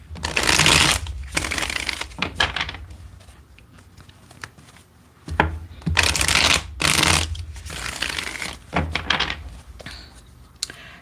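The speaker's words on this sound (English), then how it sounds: "let's get one more good shuffle" A deck of tarot cards is shuffled by hand in repeated bursts of crisp riffling and flapping, close and fairly loud, with brief pauses between bursts and no talking.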